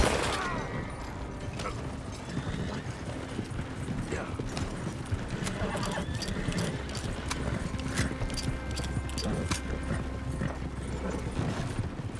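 Horse hooves clip-clop steadily on the ground in the Red Dead Redemption 2 video game, a continuous close rhythmic beat running alongside faint mechanical clatter throughout.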